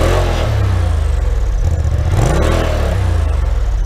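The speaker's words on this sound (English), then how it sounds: "Rev it up a little bit." 2020 Polaris RZR Turbo S with a straight-pipe exhaust revving up and down several times, the loud close engine note swooping in pitch over a throbbing low rumble.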